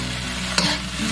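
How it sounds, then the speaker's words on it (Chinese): Pork belly and aromatics tossed in a wok with rice, salt, white pepper and soy sauce over low heat: a steady close sizzle with one sharp scrape of the spatula partway through, no voices. "再把五花肉跟料头倒下去翻炒均匀"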